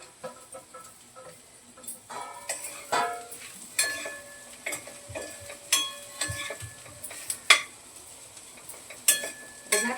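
Okra, fried and then stir-fried in a pan on low heat for a peanut-powder bhaji, gives soft sizzling under repeated clinks and scrapes of a spoon against the pan.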